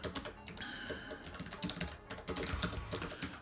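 Typing on a computer keyboard while writing a C program: rapid, irregular close-up key clicks in quick bursts, fairly loud and alone without talk.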